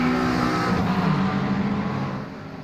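GP3 race cars battling in a four-way fight at Tsukuba circuit, a close engine roar with buzzing harmonics that swells briefly and then fades as the cars pass.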